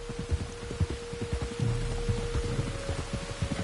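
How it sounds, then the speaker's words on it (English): Steady rain falls in Red Dead Redemption 2, a dense continuous patter of drops against a low wash of noise, close and even throughout with no voices. "You were right about the damn rain."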